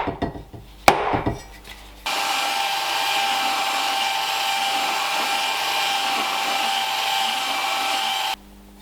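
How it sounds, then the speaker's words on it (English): A belt grinder fitted with a coarse 40-grit belt grinds the steel of a Rinaldi axe just behind its edge, giving a steady, loud abrasive whine for several seconds after a few brief knocks at the start. "As you probably can see, I'm not grinding out to the actual edge yet."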